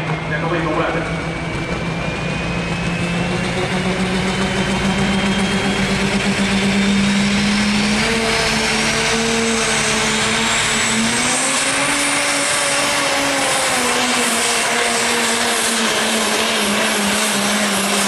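Super Stock diesel pulling trucks roar under load at a diesel nationals truck pull. The loud engine drone climbs steadily in pitch through a long, sustained pull, with a whine rising above it.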